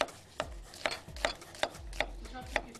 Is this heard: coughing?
no